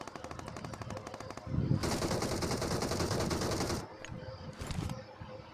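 Gunfire from the mobile game BGMI: rapid automatic bursts, one long dense stretch of fire and a shorter burst later, heard through game audio at moderate level.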